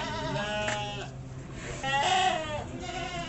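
A goat on a livestock farm bleats in loud, wavering cries close by, two or three calls with short gaps between them.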